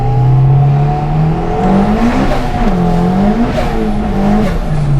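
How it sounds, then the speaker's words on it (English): Turbocharged 330 hp Honda DC2 Type R spinning its tires: a loud, close engine drone rising and wavering in pitch with harsh tire squeal layered over it throughout, no talking. "Was that all tire spin?"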